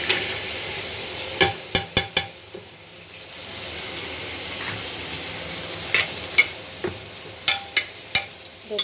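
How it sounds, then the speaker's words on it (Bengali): Chopped onions frying in hot oil, a steady low sizzle close by, broken by sharp clacks of a spatula or spoon against the pan in quick clusters. "তেলটা গরম করে নিয়ে পেঁয়াজ কুচি দিয়ে দিলাম"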